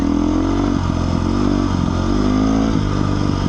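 Beta 390 RR-S dual sport motorcycle ridden in first gear, a loud, close, steady engine drone with slight rises in pitch as it pulls along, no voice over it.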